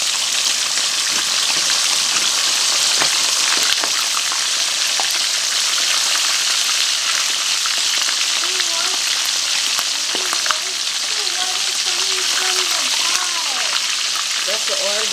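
Escovitch fish, Jamaican style, fries in hot oil in a pot with a steady, loud, broad sizzle that runs the whole time, plus a few spattering pops, while a voice talks over it now and then.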